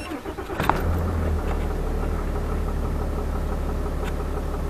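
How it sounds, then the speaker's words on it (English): A Dodge Ram 6.7 diesel truck engine cranks and catches, then settles into a loud, steady, rumbling idle that carries on close by. "I'll start the truck up"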